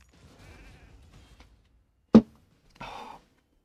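In the Raid Shadow Legends video game, a sheep bleat comes up as a few short, separate bursts: faint murmuring sounds, then a sharp loud hit, then a brief nasal cry.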